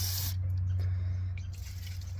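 Aerosol rust check sprayed onto the underside of a 1998 Dodge Ram 1500 pickup, a brief close hiss that cuts off sharply after a quarter second, leaving a steady low hum with faint drips and clicks.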